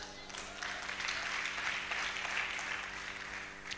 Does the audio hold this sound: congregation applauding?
yes